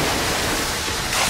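A water jutsu in the Naruto anime lets out a short, loud rushing splash, a dense surge of water noise that swells slightly at the end.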